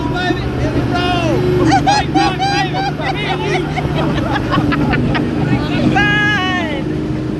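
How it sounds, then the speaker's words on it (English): Diesel speedboat engine running steadily on the water near Cozumel, Mexico, a constant low drone beneath loud excited chatter, shouts and whoops from passengers on board. "That's a diesel, baby."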